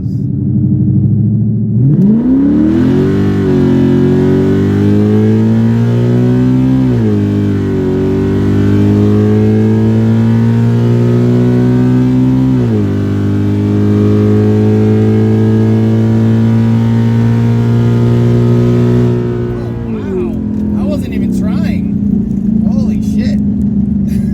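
A 2015 Ford Mustang with a 6R80 automatic in street trim accelerates hard through a drag test, its engine note climbing loud and steady with several distinct gear shifts before easing off near the end.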